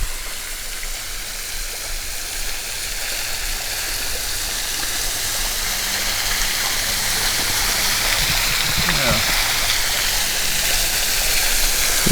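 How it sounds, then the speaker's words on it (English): A modest, low-flow waterfall in Shawnee National Forest pours in a steady, continuous broadband rush of falling and splashing water, close and even throughout with no voices. "Got us a waterfall. I mean, it's not the most flowing one,"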